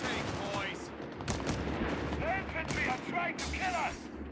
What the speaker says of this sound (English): USF MG is opening fire